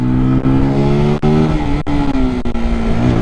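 Zontes Roadster 125 motorcycle slowing under rear-brake application, a steady loud engine drone with falling pitch and a few brief dips, no talk.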